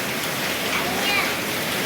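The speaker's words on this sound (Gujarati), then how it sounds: "સરસ મજાનો વરસાદ આવે છે" Steady rain falls in a continuous dense hiss during a rainy spell, with no breaks, and a voice talks over it.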